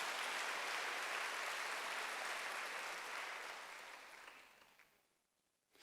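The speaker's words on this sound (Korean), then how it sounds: "박수." Church congregation applause during a Sunday worship service, a dense, even roar of clapping that holds steady, then fades out over the last couple of seconds.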